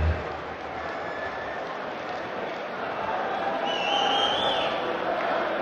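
Darts crowd roaring and cheering continuously for Peter Wright, 'Snakebite', at the 2017 German Darts Championship in Hildesheim against Michael van Gerwen, a dense, steady wash of arena noise with faint whistles rising near the end.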